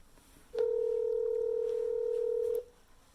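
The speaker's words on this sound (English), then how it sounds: "We're going to call my mom." A telephone keypad tone sounds while a call is being dialed: a single steady electronic beep lasting about two seconds, close and clear against a quiet room.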